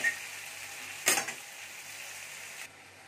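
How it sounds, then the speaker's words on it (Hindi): Whole moong dal frying slowly on a low flame in a pan, a soft continuous sizzle broken by a sharp metallic scrape of stirring near the start, then cutting off abruptly near the end. "अब इसको आप धीमी आंच पे हल्के हल्के फ्राई कीजिए।"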